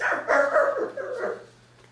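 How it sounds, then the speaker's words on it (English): A dog struck by a thrown rock yelps in pain at night: a quick string of sharp, whimpering cries, close and loud, that taper off into quiet. "the sound of a dog yelping in pain"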